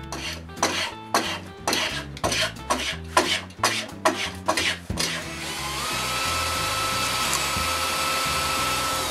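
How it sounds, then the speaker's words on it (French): A spokeshave rounds the square ends of wooden chair parts during a chair restoration, giving about ten rhythmic rasping strokes up close. A continuous whooshing hum like a dust extractor then takes over. "Je les mets ronds avec le vastringue."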